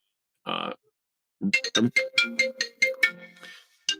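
Phone ringtone sounds nearby: a brief buzzy tone, a pause, then a quick run of bright, melodic electronic beeps that rise and fall before cutting off.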